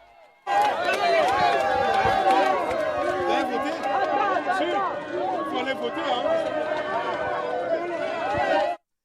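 A crowd at the Charles Guillot primary school in Cotonou greets the presidential couple arriving to vote in Benin's 2023 legislative elections, with a dense, steady babble of many voices and cheering that ends abruptly.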